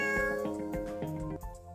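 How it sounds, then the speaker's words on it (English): A robotic companion pet cat gives a clear, close meow followed by a few shorter mews, lasting just under two seconds with no voices. "These kitties look, feel, and sound like the real thing."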